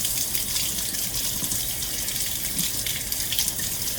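Water runs steadily over a reusable Ikonart stencil as it is rinsed, a continuous close gushing splash like an open tap, alone with no talk.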